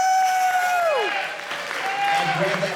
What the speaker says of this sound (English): Big round of applause for Ed Miller.